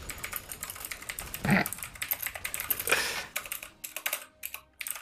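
Rapid clicking keystrokes on a computer keyboard, close and uneven in rhythm, come in bursts with short pauses as a chat message is typed during an online game.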